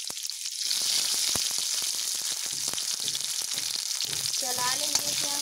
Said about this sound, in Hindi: फिर इसमें 1 प्याज डालेंगे कटी हुई।